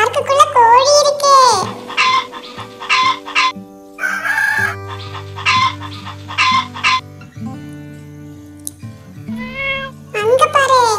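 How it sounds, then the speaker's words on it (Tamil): Cats meow in short, repeated calls in a kids' park, mixed with a chicken rooster crowing and clucking nearby; a person talks between them. "அங்க பாரு, ரெண்டு பூனை விளையாண்டிருக்கு."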